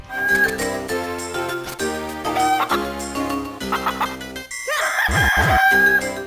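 Cucco chickens from The Legend of Zelda: The Minish Cap crow and cluck in a loud, busy minigame scene, with repeated crows over jingly game music and tinkling effects.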